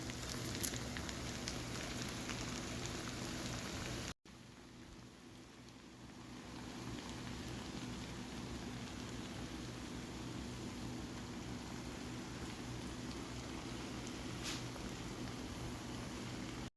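Leftover pulao rice is stir-fried and mixed in a hot pan, making a soft continuous sizzle with faint scraping, quiet and steady throughout, briefly cut off near the start, with no talk.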